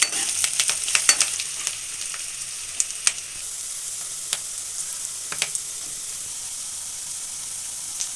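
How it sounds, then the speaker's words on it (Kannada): Mustard seeds, garlic, onion and curry leaves frying in hot oil for bitter gourd sambar, a close, steady sizzle with sharp popping crackles that are busiest early on, no talking. "ಈ ಸಾಸಿವೆ ಸಿಡಿತಿದ್ದಂಗೆ ಬೆಳ್ಳುಳ್ಳಿ, ಈರುಳ್ಳಿ, ಕರಿಬೇವು ಇಷ್ಟು ಹಾಕ್ಕೊಂಡು ಚೆನ್ನಾಗಿ ಫ್ರೈ ಮಾಡ್ತೀನಿ."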